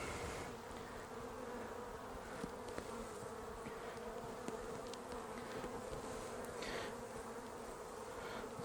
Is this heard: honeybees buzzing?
yes